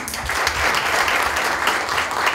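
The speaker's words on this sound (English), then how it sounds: "A round of applause, please." Audience at a Women's Day celebration applauds a welcomed guest, a loud, continuous patter of many hands clapping together in a hall, with no voices over it.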